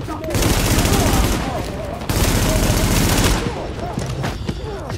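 Enemy automatic gunfire in Tom Clancy's The Division, dense loud bursts in two long volleys with a short break between and shots trailing off at the end, no voice over it.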